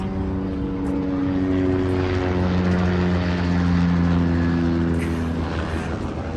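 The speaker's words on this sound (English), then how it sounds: "just letting the helicopter go by" A helicopter passes overhead outside a garden nursery, its steady droning rotor hum loud and continuous throughout with a slight swell midway, no talk over it.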